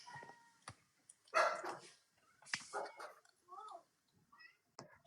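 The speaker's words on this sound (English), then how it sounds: "They're finna bark." Household dogs barking indoors in short irregular bursts, a few loud close woofs mixed with yips and a brief whine, spread across several seconds with quiet gaps between.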